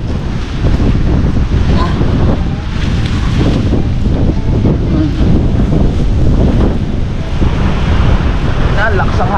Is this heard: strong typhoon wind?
yes